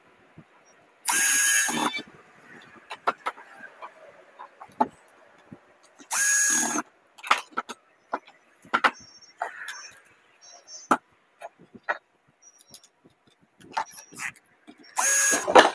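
A power drill drives screws during a mixer grinder repair: short, loud, close whirring bursts, three longer ones and many brief taps and clicks of handling between them, in an otherwise quiet workshop with no talk.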